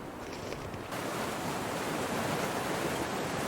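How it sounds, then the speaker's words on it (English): Rushing river water in The Long Dark, a steady broadband roar like a strong current, growing a little louder after the first second and continuing unbroken. "No, the other sound, like rushing water."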